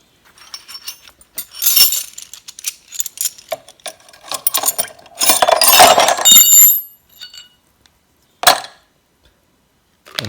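Rusted wrenches from a snowmobile tool kit clink and clatter against one another and a container as they are dropped in to soak, a few separate metallic chinks followed by a denser jumble of clanks and a last sharp clink.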